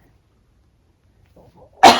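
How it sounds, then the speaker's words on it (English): A single sharp, loud cough bursts out close after near silence and a faint breath, trailing off briefly. "of course I'm going to cough"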